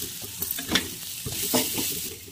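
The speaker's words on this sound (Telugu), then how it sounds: "ధనియాల పొడి, కారం, ఇవన్నీ బాగా ఫ్రై చేసుకోవాలండి." Coriander powder and chili powder fried in a pan, a crackling sizzle broken by several stirring scrapes and taps of a spoon against the pan.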